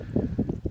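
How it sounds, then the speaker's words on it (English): Low rumbling wind on Glacier Peak buffets the microphone in uneven gusts, muffled and boomy, with nothing else audible. "Sorry about the wind."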